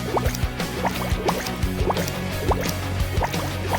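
Liquid released drop by drop from a dropper into a setting bath, forming tiny balls for doll-sized mini food; soft, quick drips and small splashy plinks in an uneven rhythm, close by, with no talking.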